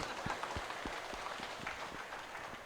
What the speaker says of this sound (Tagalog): Pasensya na po, mahilig kami sa palakpak dito, no?